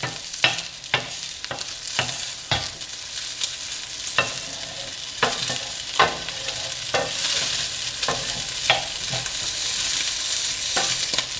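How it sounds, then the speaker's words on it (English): Corn chowder ingredients sizzle and crackle steadily in a frying pan, with sharp clicks and scrapes of stirring at irregular intervals, close up with no talking. "it's got a little bit of a sizzle still"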